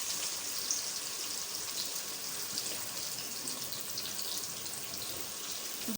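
Chopped onions dropped into hot oil for a bhindi gosht, giving a steady, hissing sizzle that stays even and fairly faint throughout, with no talking.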